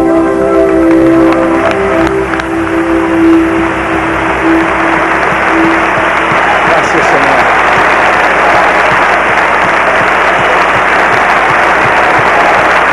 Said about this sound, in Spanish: Yo quisiera pedirles que le demos un último aplauso a nuestro Señor esta noche.